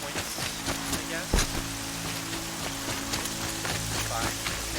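Steady rainfall in the open-world game Horizon Zero Dawn, a dense hiss of drops on surfaces with scattered louder splats, layered over a low droning background.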